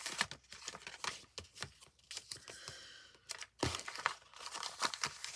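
Paper being folded and creased by hand while making an envelope stack, with a series of close, quiet crinkles and rustles in uneven bursts.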